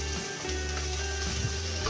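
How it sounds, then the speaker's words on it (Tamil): Sliced onions fry in hot oil with ginger-garlic paste for a channa masala, giving a steady, close, even sizzle with no talking. "இது நல்லா கோல்டன் ப்ரௌன் கலராக வர வரைக்கும் வெங்காயத்தை நல்லா எண்ணெயில் வதக்கிக்கலாம்"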